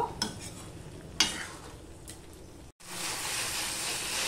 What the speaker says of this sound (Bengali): দিয়ে ভালো করে আমি কষিয়ে নেব।